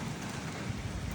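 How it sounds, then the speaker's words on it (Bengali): Light drizzle falling on CK Ghosh Road, a flooded street in central Mymensingh city, a steady soft hiss of rain with faint wind running evenly throughout, no voices. "এখনো কিছু গুড়ি গুড়ি বৃষ্টি হচ্ছে বটে"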